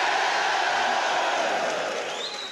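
A dense, noisy crowd roars steadily at a boxing press event, a loud, continuous wash of voices and cheering that tapers slightly toward the end.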